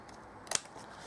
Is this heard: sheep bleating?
no